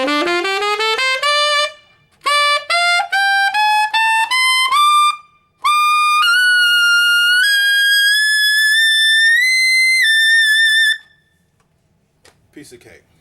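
Tenor saxophone running an E blues scale up into the altissimo register, clear ascending and descending note runs with a few pauses, loud and close, played solo with no talk.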